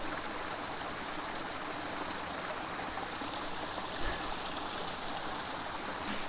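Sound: Buntzen Creek stream flowing

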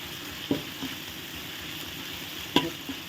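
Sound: curry paste being stir-fried with coconut milk

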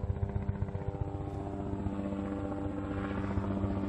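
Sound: police helicopter flying overhead

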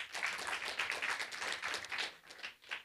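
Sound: audience clapping

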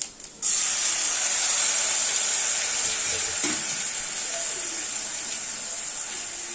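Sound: water poured into frying country chicken masala, sizzling

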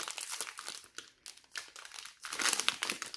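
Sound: opening a fat pack of trading cards

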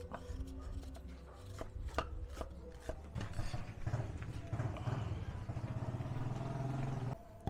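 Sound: chopping onion with a knife

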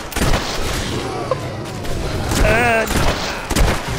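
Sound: gunfire in video game Fable 3

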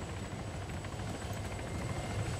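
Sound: helicopter in the video game Arma 3

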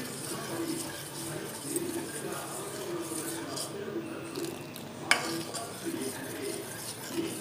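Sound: stirring kulfi milk mixture in a pot

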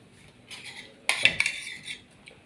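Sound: putting a spoon on the Thai omelette plate

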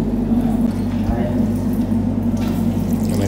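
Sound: water running from a tap

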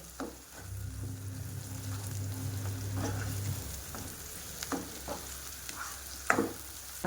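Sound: wet masala frying in oil

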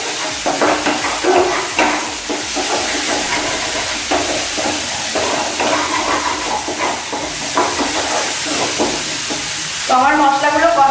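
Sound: spices sizzling as they are stir-fried in a pan

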